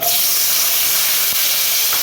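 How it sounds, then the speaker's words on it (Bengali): Potatoes fry in hot oil with dried chillies and cumin seeds, a loud, steady hiss that runs evenly from start to finish, with no talking. "এরপরে আমি আলু দিলাম আলুগুলোকে ভেজে নিই"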